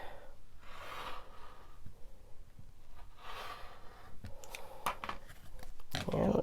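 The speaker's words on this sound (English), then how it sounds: "Once you know that you're aligned in the right place, continue cutting." Scissors fussy-cutting fabric hexagons, soft repeated snips and slicing rasps close by, quiet and intermittent, with breathy handling noise and a louder burst of cutting at the end.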